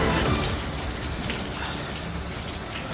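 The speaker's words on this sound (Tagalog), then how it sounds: "Dinig pang pagbagsak ng ulan sa cellphone video ito ng isang residente malapit sa sunog sa Kapitolyo, Pasig kanina." Heavy rain pours down near a residential fire in Barangay Kapitolyo, Pasig, captured on a cellphone as a dense, loud, unbroken hiss of drops striking surfaces.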